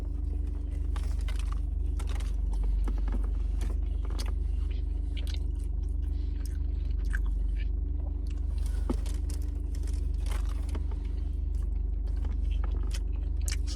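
Biting and chewing a glazed donut from a donut shop, close to the mic: soft squishy bites and steady mastication for about fourteen seconds over a low constant background hum, with no talking.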